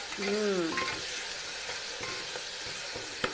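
Okra (bhindi) frying in a pan for a home-cooked masala bhindi, a steady close sizzle with light stirring scrapes, continuous and fairly quiet, no talking.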